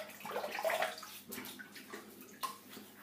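Water splashes and gurgles in brief, close bursts as hands wet the face before a shave, a quiet, irregular wash of droplets and slaps.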